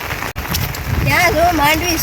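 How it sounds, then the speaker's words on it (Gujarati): Rain pours over flooded farmland in a steady, loud hiss, briefly cutting out near the start, while a nearby voice talks over it for the second half. "વરસાદ તોય ચાલુ ને ચાલુ ચાલુ"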